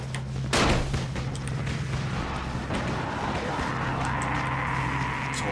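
Firecrackers thrown in the zombie game Dying Light, heard as a sharp loud bang followed by a few fainter pops and crackles over steady game background noise, with no talk.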